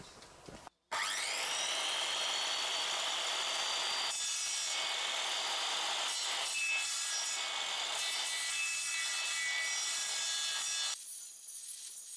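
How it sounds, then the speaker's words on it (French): A circular saw whirs at a steady high pitch, spinning freely without cutting before shaping round tenons on rough timber, then winds down near the end, with no voices. "je viens placer approximativement ma scie circulaire"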